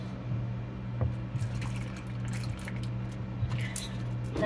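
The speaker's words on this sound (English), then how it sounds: "I'm going to add a little bit of water." Water is poured into a blender while making a pina colada smoothie bowl, giving a soft, steady trickle and splash that runs close by at low level for several seconds with no talking.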